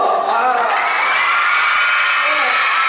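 An audience at the 32nd Golden Disc Awards applauds and cheers, a dense, loud wash of clapping and high shouts that holds steady for a few seconds.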